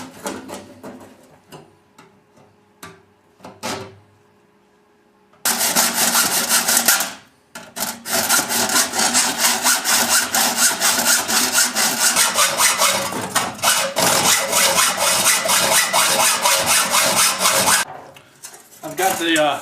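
Hacksaw cutting through a piece during fireplace work, after a few scattered knocks and clicks: a long run of loud, steady back-and-forth rasping strokes, with a brief pause partway, continuing up close for about twelve seconds.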